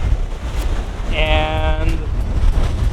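Rough Gulf of Mexico surf at a beach in Chuburná near Merida, Yucatan, a steady windy wash of waves with a brief voice partway through.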